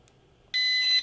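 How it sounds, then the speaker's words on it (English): A Holy Stone HS430 drone controller gives a single sharp electronic beep, loud and close, lasting about half a second, to confirm gyro calibration. "And you'll hear that beep. That means the drone now knows what level is."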